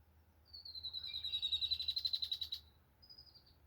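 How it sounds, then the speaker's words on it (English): A single bird sings nearby outdoors, a rapid trilling run of high notes that swells and fades, then a short whistled note after. "Got pretty birds out here."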